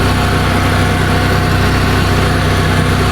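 An ESAB Ruffian 270 welder generator's engine runs loud and steady just after startup, a continuous droning rumble with no break and no talking.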